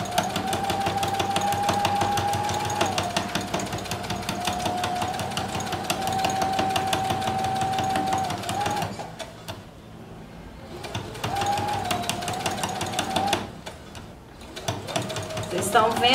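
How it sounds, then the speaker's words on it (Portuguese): A sewing machine stitches fabric along a zipper for a pleated patchwork pouch, running in a fast, steady mechanical chatter with brief pauses, while someone talks over it. "Vamos posicionar um pé de máquina, que é essa parte do pezinho rente ao tecido."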